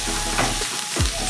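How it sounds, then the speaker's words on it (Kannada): Onions, green chilies and fresh curry leaves fry in a pan with a loud, continuous hiss and a few soft stirring shifts, without any voices. "ಸ್ವಲ್ಪ ಗೋಲ್ಡನ್ ಬ್ರೌನ್ ಆಗೋ ತನಕ ಚೆನ್ನಾಗಿ ಫ್ರೈ ಮಾಡ್ಕೋಬೇಕು"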